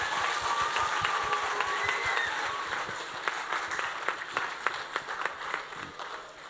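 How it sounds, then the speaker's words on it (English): Applause from friends and families at a Year 3 school assembly: steady, fairly close clapping from a crowd that continues throughout, with scattered individual claps standing out toward the end. "can we give Year 3 a big round of applause?"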